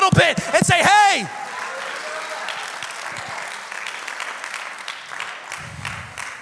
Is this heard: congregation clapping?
yes